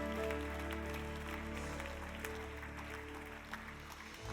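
A church audience applauds, a dense continuous wash of clapping at a steady level that slowly thins toward the end, with sustained tones sounding underneath.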